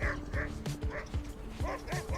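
A dog in obedience training gives short rhythmic yips and whimpering barks in a repeated pattern, close and fairly loud, with a person talking alongside.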